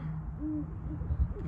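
A few low hoots from great horned owls in Colorado sound softly over a quiet, dull background, short and spaced out.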